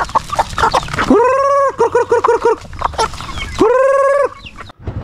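Chickens cluck and squawk close by, with a couple of long drawn-out rooster-like calls rising above rapid, repeated clucking.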